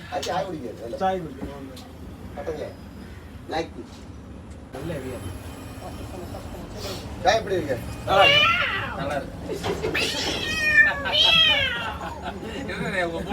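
A mimicry artist imitates a cat's meow by voice on a houseboat outing in Alappuzha, several drawn-out, rising-and-falling meows in the latter half over boat engine hum and chatter from people nearby.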